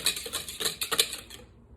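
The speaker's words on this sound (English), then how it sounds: "I'm just gonna stir it together, well, whisk it together to create" A whisk clinks quickly against the sides of a bowl as plain yogurt and water are mixed together, a light rapid metallic tapping that is fairly faint and stops after under two seconds, with no voices.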